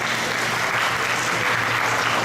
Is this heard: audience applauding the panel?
yes